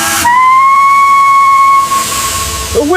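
A steam whistle on a restored Thomas engine sounds one loud sustained tone of about a second and a half over hiss, then settles into a softer steady hiss of steam.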